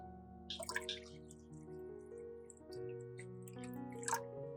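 Filtered water pours into a bowl of white vinegar, with soft, close trickles and a few drips over a quiet background music bed.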